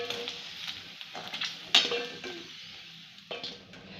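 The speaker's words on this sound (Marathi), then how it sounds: "याचप्रमाणे आपण ह्या सर्व पुऱ्या तळून घेणार आहे" Puris for pani puri frying in hot oil give a soft, steady sizzle and hiss, with occasional light clinks and scrapes of a utensil against the pan, close by and fairly quiet.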